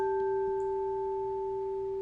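Singing bowls ring out as a soft, steady sustained tone with a clear pure pitch and an upper overtone, fading slowly and evenly with no other sounds.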